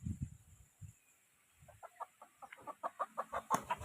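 A rooster clucks in a quick, rhythmic series that grows louder and faster, following a few soft low thumps.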